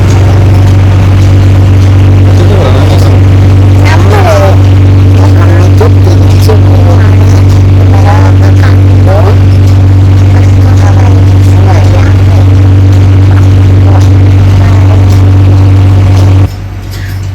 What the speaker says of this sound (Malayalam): ബോട്ട് സ്റ്റാർട്ടായി മൂവ് ചെയ്യാൻ തുടങ്ങി